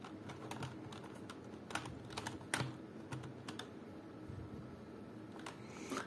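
Keys clack on a Rampage KB-R221 membrane keyboard in quick, irregular bursts of soft taps, close and fairly quiet, with no voices.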